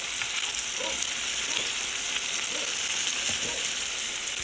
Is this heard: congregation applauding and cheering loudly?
no